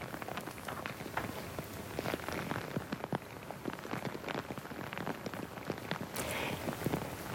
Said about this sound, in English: Heavy rain falling across several parts of Singapore, where Mr. Lee Kuan Yew's state funeral proc